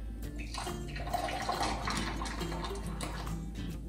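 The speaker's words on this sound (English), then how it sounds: "We're gonna pour our" Homemade Russian olive jelly poured through a funnel into a jar, a soft continuous liquid pour close by over a steady low background hum, with no talking.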